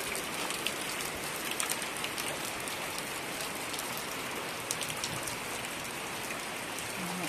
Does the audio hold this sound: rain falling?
yes